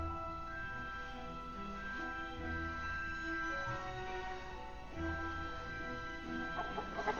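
Chickens cluck softly and intermittently over a steady humming tonal background, fairly faint, with no talking.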